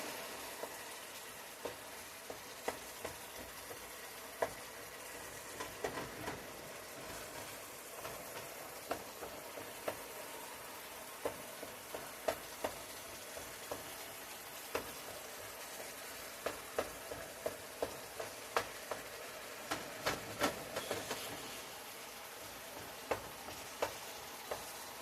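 A one-pot meal simmers and sizzles in a pan as a can of diced tomatoes goes in, with steady frying hiss and scattered soft clicks of stirring, no voices.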